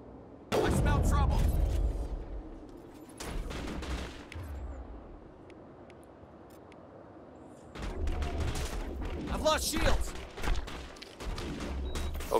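Sniper rifle fire in the video game Mass Effect: loud, dense bursts of shots and impacts in two stretches, separated by a quieter lull of game noise, with a voice talking briefly over the action.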